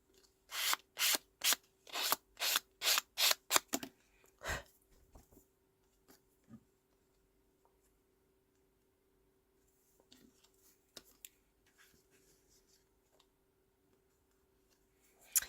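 Quick rhythmic strokes of sandpaper rub along the edge of a paper bag album page, about ten brisk scratches in a row, then a few scattered taps and rustles as the crafting pauses.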